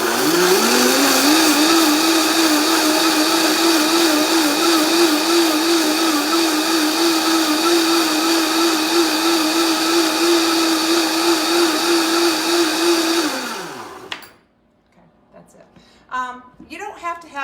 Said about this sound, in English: You can use any kind of blender with this, and I'll talk about that in a minute, but I'm going to turn it on for about 20 seconds